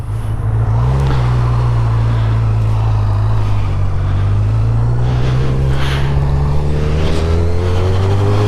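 A smooth-running motorcycle engine pulls away, its steady drone rising gradually in pitch as it accelerates, close and loud throughout with no talking.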